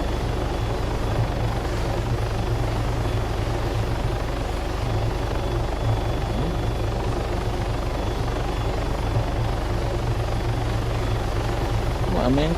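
A helicopter in the Arma 3 video game drones loudly and steadily throughout, its engine and rotor forming a dense continuous roar that holds level with no pauses.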